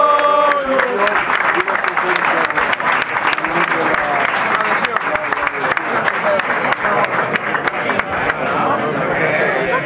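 Audience at the Rayo Vallecano awards ceremony applauding loudly and steadily, dense clapping that fills the whole stretch without a break.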